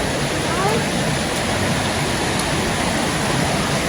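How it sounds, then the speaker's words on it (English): Muddy floodwater rushing down a waterfall near a bridge, a dense, steady roar of broadband noise that stays constant and loud from start to finish, with no pauses. "there's so much water coming down"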